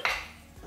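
Sliced onion strips drop into a frying pan, giving a single brief clatter and rustle up close that fades quickly.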